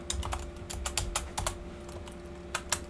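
Keys on a computer keyboard clatter in a quick, uneven run of close, crisp taps, with a few brief gaps between bursts.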